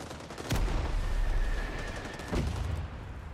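Machine gun fire in the video game Rising Storm 2: Vietnam, a dense sustained burst of distant rattling shots over heavy battlefield rumble, with a sharper crack near the start and another later.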